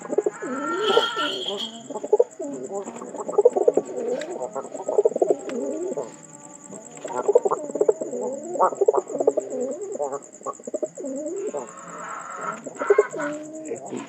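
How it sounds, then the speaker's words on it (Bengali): Pigeons coo in repeated soft, throaty bursts across a loft, the calls overlapping and close, with a thin steady high-pitched tone running underneath throughout. "এদিকে মনে করেন যে পায়রাই ডাকতেছে"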